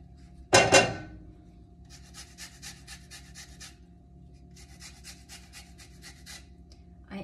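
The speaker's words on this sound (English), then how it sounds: "I'm going to zest a lemon" A lemon is zested over a skillet with short, rhythmic scraping strokes on a grater, delivered in two quick bursts after a sharp knock at the start, fairly faint and close with no talking.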